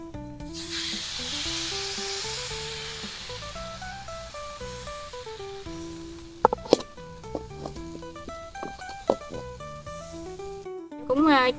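Bánh xèo pancake batter with clams sizzles and hisses steadily in a hot pan, a loud close crackling spray under music and some talk, with a few sharp clinks near the end.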